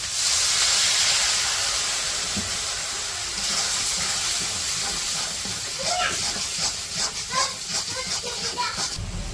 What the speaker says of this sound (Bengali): এখন মশলাগুলা একটু পানি দিয়ে কষে নেব